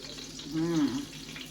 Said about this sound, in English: Y'all know the sizzle sizzle.